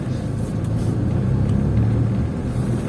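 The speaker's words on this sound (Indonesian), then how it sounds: "Aduh, banyak mobil lagi" Cars passing in road traffic on the way to Jatibarang, Brebes, heard from inside a moving car: a steady, loud low rumble of engines and tyres with no distinct pauses.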